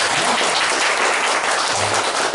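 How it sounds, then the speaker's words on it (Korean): A church congregation claps loudly to welcome missionaries serving in Kenya at a Sunday service, a thick, sustained round of applause filling the room without a break. "먼저 큰 박수 환영합니다"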